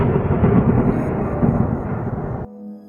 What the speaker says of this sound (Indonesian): aku dikejutkan oleh suara petir yang menggelegar